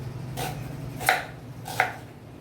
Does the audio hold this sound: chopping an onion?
yes